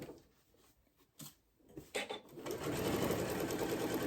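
A sewing machine stitches an apron pocket along a pressed fold line. A few soft clicks and handling noises come first, then the motor starts a close, steady, rapid whirring hum.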